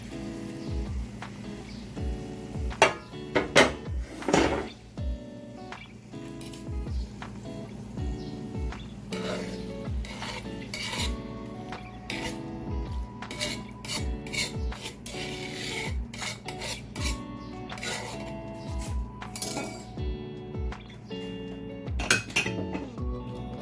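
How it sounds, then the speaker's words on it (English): Ackee and bacon being placed into a cooking pot with a metal utensil for a Jamaican Ocho Rios Cobb salad, with repeated close clinks, scrapes and rasping stirs against the pot in an irregular rhythm. "Place the ackee in the pot."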